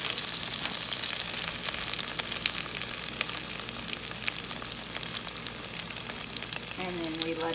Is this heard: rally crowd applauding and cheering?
no